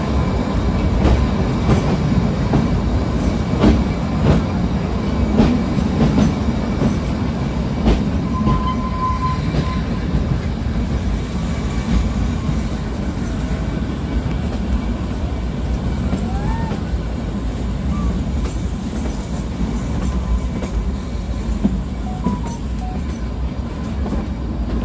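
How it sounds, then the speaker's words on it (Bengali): Kalka–Shimla toy train (Himalayan Queen Express) rolling through a run of mountain tunnels near Barog, a steady loud rumble of wheels and carriages with faint clickety-clack and occasional brief squeals throughout. "ট্রেন একটার পর একটা টানেলের মধ্যে দিয়ে যাচ্ছে"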